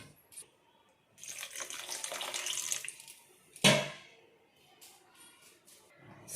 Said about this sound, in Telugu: వాటర్ని మరి కొంచెం వేసుకుందాం.